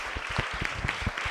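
Audience clapping at a film crew presentation, a short burst of moderately loud, rhythmic applause from a crowd with individual claps audible.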